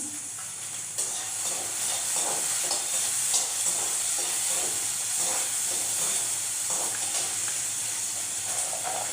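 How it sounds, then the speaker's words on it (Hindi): Onions fry in a pan in a home kitchen for a paneer dish, a continuous close hissing sizzle broken by repeated stirring scrapes and taps, with no talking. "इसीलिए प्याज भून रहे हैं हम"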